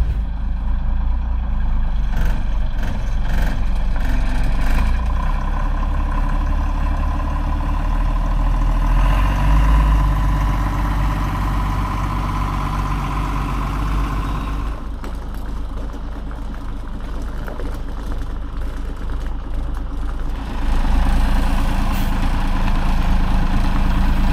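A diesel expedition truck, a converted fire engine with a fault, idling close by with a loud steady low rumble that barely changes over the long stretch and a slight dip and rise in level partway through.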